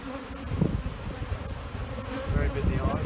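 Honey bees swarm around a busy backyard beehive during a spring inspection, producing a continuous close, dense buzzing with individual bees droning past, with no talking.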